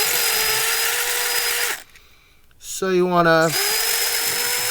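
A power drill backs screws out of a Mainstays SFC-225BR1 9-inch high-velocity fan, giving a steady close whine that pauses briefly and then revs up in a short rising burst, with someone talking over it.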